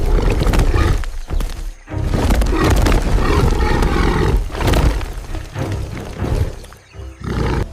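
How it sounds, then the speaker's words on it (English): A tiger's roar, loud and close, rising in long, deep, rough bursts that swell and fade several times with brief lulls between, heard alone with no talking. "When a tiger roars, the jungle goes silent."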